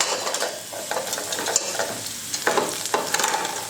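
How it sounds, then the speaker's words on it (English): Onion and garlic sauté in a pan while a spatula stirs them, for a local spinach and egg dish. A close, lively sizzle is broken by scraping strokes and brief bursts of stirring. "let's add our onion to the pan, and then add your garlic to the pan"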